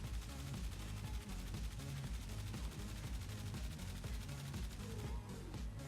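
The Flux Rifle in the Warframe video game fires continuously, producing a dense, loud stream of rapid energy-weapon shots that runs unbroken throughout.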